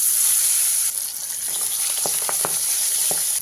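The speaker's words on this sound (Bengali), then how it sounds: "মাছগুলো খুব বেশি কড়া করে ভাজবো না হালকা করেই ভেজে নেব" Pabda fish sizzling in hot oil in a pan over a medium flame, a steady loud hiss with a few sharp crackles and pops near the end.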